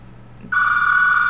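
A home landline telephone starts ringing abruptly after a brief quiet stretch, a loud, steady electronic ring that continues unbroken to the end.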